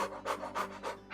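A person breathes loudly and on purpose, close to the microphone. About four heavy, rhythmic breaths come in steady succession, almost like panting.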